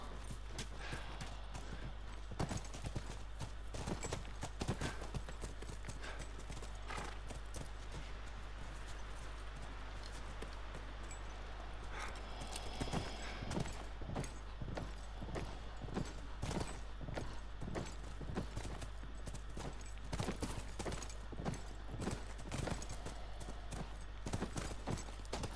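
Horses clip-clopping in The Last of Us, a steady dense patter of hooves across the whole stretch, fairly loud and continuous, with no talk over it.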